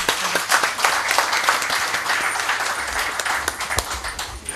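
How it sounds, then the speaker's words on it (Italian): Audience applause at an Italian FIDAPA women's association event, a steady, moderately quiet patter of many hands clapping together for a few seconds with no talking over it. "se vogliamo accogliere con un applauso."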